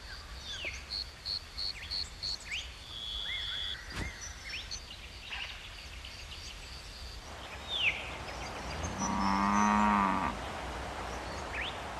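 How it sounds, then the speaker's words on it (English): Cattle in an Australian pasture shared with kangaroos: one drawn-out moo rises near the end over a steady bed of insects and occasional bird calls. "They share these pastures with several hundred head of cattle"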